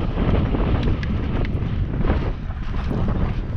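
Wind buffets the microphone in an open park area in Cumbria, a continuous low roar of gusting noise that rises and dips slightly and stays alone without talk.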